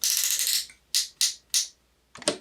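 The stitch selector on a sewing machine being turned to a new setting: a ratcheting whir followed by three crisp, evenly spaced clicks and a final snap, close and clear with no talking.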